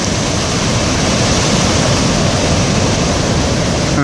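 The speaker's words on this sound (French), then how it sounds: "Les belles déferlantes sur fond de ciel." Ocean surf breaking at Port Ouest on Réunion, heard as a loud, continuous broadband roar of crashing waves with no pauses and no voices.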